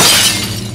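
A glass object smashed in the video game Amnesia: The Dark Descent, a single sharp bright shatter that rings out and fades within a second, close and loud.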